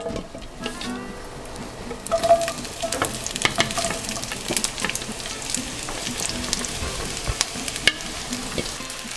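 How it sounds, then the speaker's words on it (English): Vegetables hitting a hot, oiled pan while a Greek sausage gyro is being cooked: a close, steady crackling sizzle with clinks from stirring, and no talking. "our pan is hot, and now we're gonna add our vegetables to the pan"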